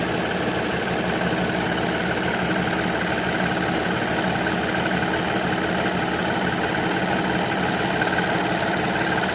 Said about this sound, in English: Now you'll find that sewing a rolled hem is slower than sewing a normal overlocking stitch.